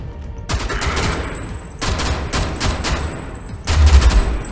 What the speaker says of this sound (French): à force de mettre des balles dans la tête, au bout d'un moment, il crève